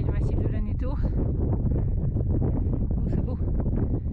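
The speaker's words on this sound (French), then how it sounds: "Il y a du vent, hein?" Gusty wind buffets the microphone on a Pyrenees mountain summit near Pic du Pouy Louby, a constant low rumbling roar under people talking.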